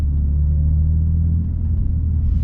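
A BMW M3 CS engine under a third gear pull gives a loud, deep, steady rumble from inside the car, holding strong with little change across the short stretch.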